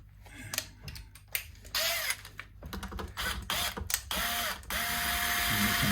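Power driver backing screws out of guitar tuners, short bursts of whirring and ratcheting clicks with tool handling between, ending in a longer steady whine, close up and without talk.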